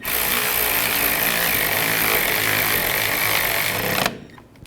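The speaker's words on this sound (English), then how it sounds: "and tighten that bolt down" A power tool drives down a bolt during a front passenger CV axle install on a 2008–2012 Honda Accord, giving a loud, steady buzzing rattle for about four seconds before it cuts off abruptly.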